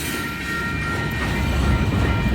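A Union Pacific inbound manifest freight train, locomotive 6256, rolls past the 1st Street crossing in Tempe with a loud, steady rumble and rattle of wagons that builds slightly toward the end.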